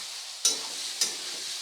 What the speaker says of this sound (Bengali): এই আদা আর রসুন বাটাটাকে খুব ভালো করে পেঁয়াজের সাথে কিছু সময় নিয়ে কষিয়ে নেব ভালো করে